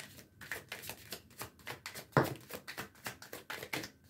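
Tarot cards being shuffled and drawn, a close rhythmic series of soft papery riffles and slaps with one sharper snap partway through.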